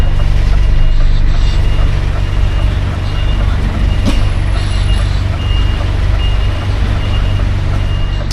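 A truck backs up to park on a North London delivery run, its reversing alarm beeping steadily and loudly over a constant engine rumble and street noise, with a brief hiss partway through.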